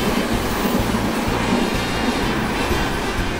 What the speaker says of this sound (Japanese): まもなく1番線を列車が通過します。